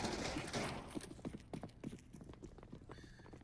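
Horses in a video game race break from the start, a rapid flurry of hoofbeats clattering at a gallop, moderately loud and steady with no talk.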